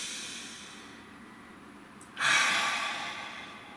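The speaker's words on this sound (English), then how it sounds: "please take a nice deep breath" One deep breath, first a quiet drawn inhale and then a fuller, breathy exhale that fades out, close to the microphone with no words spoken.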